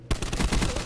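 Rapid Galil rifle bursts in Call of Duty Black Ops 4, a dense run of close, loud automatic shots firing steadily for under a second with no talking.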